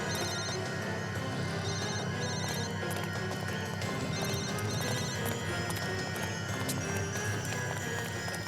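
A mobile phone rings amid a noisy Eid market, short repeating ringtone chirps cutting through a dense, steady wall of crowd noise and hoof-like clatter, moderately loud throughout.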